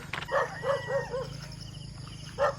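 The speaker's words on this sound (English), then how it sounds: "So the dogs are barking, cocks are crowing, motorbikes are getting busier and busier." Dogs bark in a village in Southern Leyte, Philippines, several sharp barks in two bursts with a gap between, moderately near over a low steady background hum.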